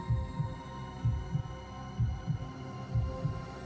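A slow, steady heartbeat thumping in paired low pulses, repeating about four times over a faint hum.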